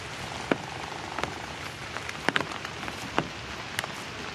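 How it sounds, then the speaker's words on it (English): Rain falls steadily around a home under big trees, a soft, constant patter with scattered louder drips landing nearby. "She stay here under the rain at home."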